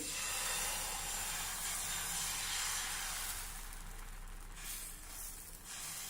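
Garlic-greens batter for Vidarbha-style ayte sizzles on a hot tawa over a high flame, a loud, steady hiss that holds throughout and thins slightly toward the end.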